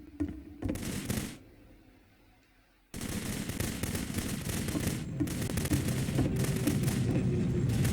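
A gun fires in the video game The Beginner's Guide, with a short burst of rapid shots, a quiet pause, then sustained dense automatic gunfire that continues loudly to the end.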